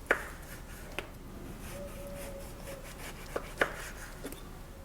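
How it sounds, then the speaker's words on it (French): A knife slices through an orange, cutting it into thin rounds about 3 mm thick for a Greek orange cake. A few sharp, separate cuts land at an uneven pace over a quiet kitchen background, with no talking. "On vient couper une orange en rondelles assez fines"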